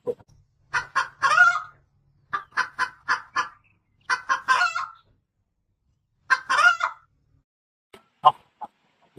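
Laying hens clucking on a Thai village farm, short bursts of close, clear clucks in irregular clusters separated by brief silences, with no talk over them.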